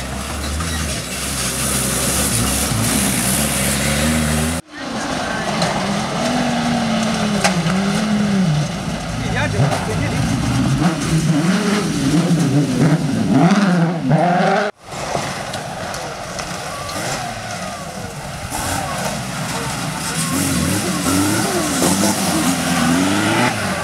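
A rally car at full speed on a special stage at Solignano di Parma roars loudly nearby, its engine rising and falling through gear changes, with abrupt cuts between passes and excited spectators calling out over the noise.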